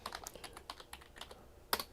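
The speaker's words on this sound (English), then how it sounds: "I have to look at the keyboard because when I'm drunk, I can't type that good." Fingers tap on a computer keyboard in short, uneven bursts of clicks, quiet and close, ending with a sharper louder keystroke, with no voice present.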